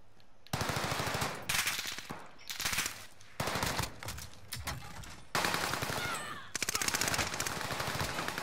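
Gunfire in Warzone Rebirth, with sustained automatic bursts broken into several loud strings of rapid shots separated by brief gaps and no talking.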